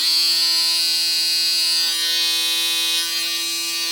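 A Babyliss Black FX One electric shaver runs with a steady, high-pitched buzzing hum that holds constant for a few seconds.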